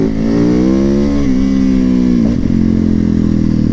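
A motorcycle engine revs steadily while riding, a loud close throbbing exhaust note that rises, dips briefly and settles into a steady pulse.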